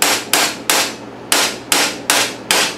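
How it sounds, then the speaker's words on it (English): A hammer taps a pin into an IVES-WAY can sealer during assembly, six sharp metallic strikes at a steady, unhurried pace, close and loud, with no talk. "just take your hammer and tap the pin in"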